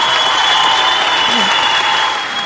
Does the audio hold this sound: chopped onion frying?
no